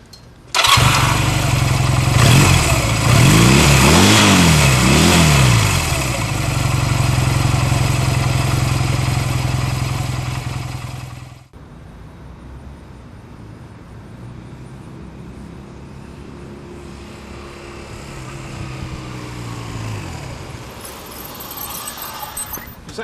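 A Honda Rebel 250 motorcycle engine runs steadily and loud up close for about eleven seconds with a revving swell, then drops to a quieter, more distant idle or ride-by drone.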